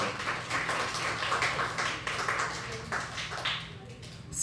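Audience at a live show breaking into applause, a sustained patter of many hands clapping at moderate distance, fairly even throughout with a slight swell at the end.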